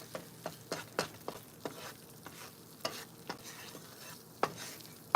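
Food browning in a pan gives a low, soft sizzle, broken by repeated sharp clicks and scrapes as it is stirred at an irregular pace.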